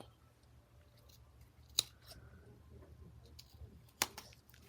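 Scissors cut through a book page in a quiet room, with two crisp snips about two seconds apart and small rustles and clicks of paper handling around them.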